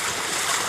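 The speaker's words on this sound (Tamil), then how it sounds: "வெள்ளம் எவ்வளோ வேகமாக ஏறி வருது பாருங்கள் தண்ணி உள்ளே" Seawater floods the coast at Thondi, Ramanathapuram district, and pushes into houses, making a loud, steady broadband rush of water throughout a brief stretch, with no voices.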